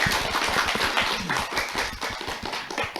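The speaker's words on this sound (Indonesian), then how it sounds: "Kita kasih tepuk tangan yang meriah." A studio audience at a television talent show applauds after a final performance, a dense, continuous burst of many hands clapping close by.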